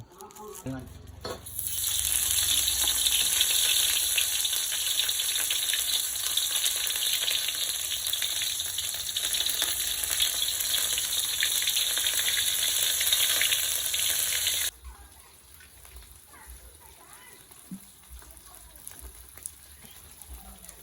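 Thai curry paste stir-frying in hot oil in a home kitchen, a loud dense sizzle for most of the time that cuts off sharply near the end, leaving quiet scraping and low clatter.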